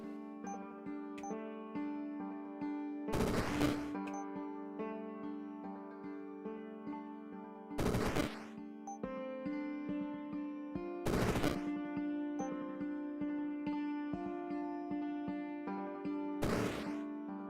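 Chaos Barrage spell going off in the turn-based game Rift Wizard 3: four loud, broadband bursts like rapid gunfire crack over a steady tonal music bed, spaced a few seconds apart.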